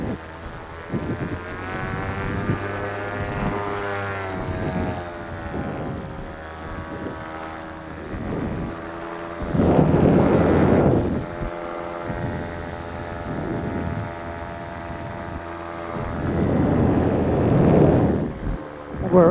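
Paramotor engine and propeller at full power during a beach takeoff, a loud steady drone with rising harmonics and strong wind buffeting that surges twice.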